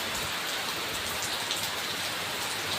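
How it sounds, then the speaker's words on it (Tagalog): Very heavy rain during a storm with strong wind, pouring down as a dense, unbroken hiss that fills the whole stretch, steady and close with no voices. "nagraradyo na po yung mga kasama namin kasi sobrang lakas daw ng ulan dito sa area namin"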